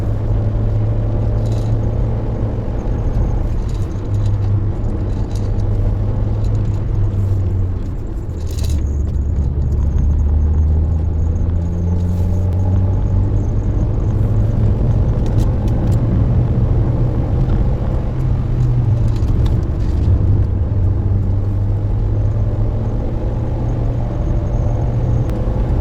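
A car engine drones steadily on a winding mountain road, revs rising and falling through gear changes with a newly fitted shifter, a loud close cabin rumble with faint clicks, no talk.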